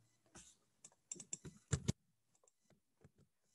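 Someone types quickly on a computer keyboard nearby, with irregular bursts of soft key clicks and one heavier clack, then a few scattered taps, and no talking.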